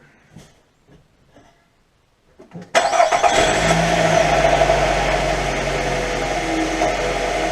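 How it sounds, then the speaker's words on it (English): A 2015 Nissan Rogue's engine is cranked and catches abruptly after a few quiet seconds, then settles into a steady, fairly loud idle hum that continues alone to the end. "Now, I just started it up so that oil is going to be all up in the valve train."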